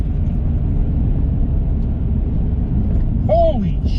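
A 2003 BMW E46 M3 under way gives a steady low engine and road rumble heard from inside the car, with a brief voice cutting in near the end.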